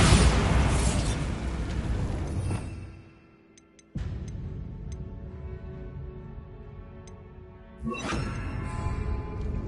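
Bombarda explosion spell in Hogwarts Legacy, set in an abandoned cave prone to cave-ins: a loud rumbling blast that fades into near silence, then a second burst at four seconds and another swell near eight, with debris clinks.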